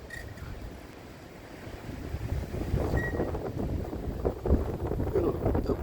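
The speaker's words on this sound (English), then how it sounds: "The wind will let up a little bit and you can see the snow gently drifting down, and then all of a sudden the wind will start up again." Blizzard wind blowing outdoors in falling snow, a steady rushing roar that builds louder over several seconds and buffets the microphone.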